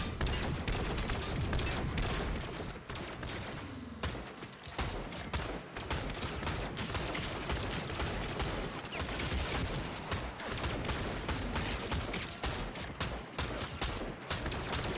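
Rapid gunfire and explosive bursts in a video game shooter, loud and continuous with dense overlapping shots, a brief drop in intensity near the start.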